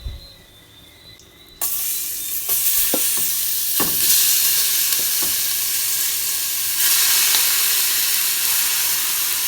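Beef hitting hot oil in a pressure cooker insert on a stovetop: after a quiet start a loud, steady sizzle and spattering hiss erupts, with occasional stirring scrapes, swelling louder toward the end.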